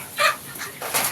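Young KUB native free-range chickens, about 100 birds in a coop, give a few short clucks and squawks in quick succession, fairly close, with no talk.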